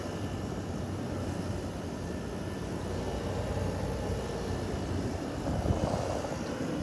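Frigidaire 8,000 BTU heat pump air conditioner running in cold weather with its coils icing over, a steady broadband fan roar with a faint constant hum, unbroken and alone at moderate distance.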